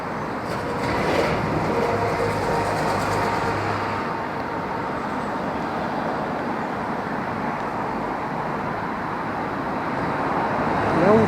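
A heavy old steam tram passes nearby, a continuous low mechanical roar with clanking and hiss that holds steady throughout.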